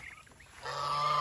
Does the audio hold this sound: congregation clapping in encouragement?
no